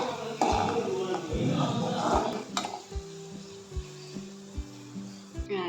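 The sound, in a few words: raisins frying in a pan for jackfruit payasam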